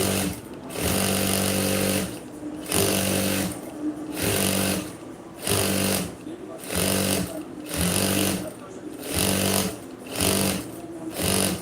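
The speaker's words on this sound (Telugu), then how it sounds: "ఉల్టా వైపు పైపింగ్ పెట్టేసుకొని ఇలా కుట్టుకుంటూ వెళ్ళిపోవాలి" A sewing machine stitches piping onto a blouse in loud, rhythmic bursts of fast mechanical whirring, each run lasting about a second with short pauses between.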